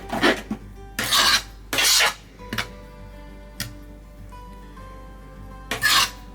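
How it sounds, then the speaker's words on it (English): A fork mixes flour, sugar and salt in a bowl, giving a few short, scratchy scraping strokes in irregular bursts, close and fairly loud, with quiet pauses in between. "Take your fork and just mix that all together"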